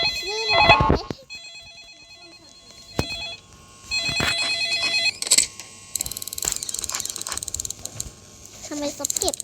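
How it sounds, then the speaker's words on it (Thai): A telephone ringing in a Roblox game, repeated electronic ring bursts with pauses between them, mixed with mechanical clicks, ratcheting and other game sounds. "เสียงโทรศัพท์ อยู่ห้องนี้เหรอ"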